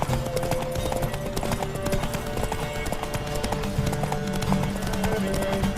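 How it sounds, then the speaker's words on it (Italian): A fast racehorse gallops in a race in The Witcher 3, its hooves pounding out a quick, driving clip-clop rhythm that repeats steadily throughout, close and prominent, with a few brief tonal game sounds layered over it. "Magari avere anche noi un cavallo così veloce"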